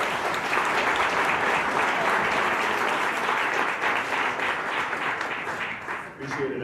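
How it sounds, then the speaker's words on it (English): Audience at a rodeo-themed talk gives sustained loud applause, a dense steady wash of clapping that fades near the end as a voice begins. "Please give a big round of applause for Brandon."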